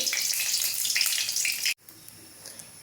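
Dried red chilies sizzle in hot cooking oil in a vegetarian dish, a steady bright crackle for nearly two seconds before cutting off sharply, leaving a quieter, fainter hiss afterward.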